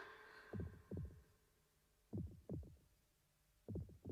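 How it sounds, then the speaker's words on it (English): Heartbeat sound effect in the Magic Knight Rayearth anime, three paired lub-dub thumps at a slow, steady pace, deep and prominent over a faint background tone. "The heartbeat sound has to mean that she's dying."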